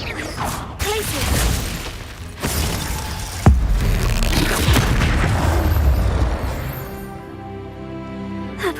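Confringo blasting spell in Hogwarts Legacy, with several booming impacts and crashing, shattering bursts amid combat noise, then a fading magical shimmer toward the end.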